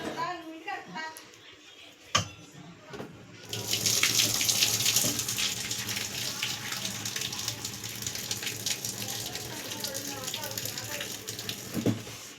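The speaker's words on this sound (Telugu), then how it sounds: "వాటర్ అంతా వంపేసుకోవాలి బాగా." Hot boiled water pours and splashes out of a pot of potatoes being drained for homemade French fries, a steady gushing wash lasting several seconds at close range, with a voice talking over it.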